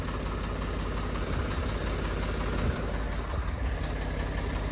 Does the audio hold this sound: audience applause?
no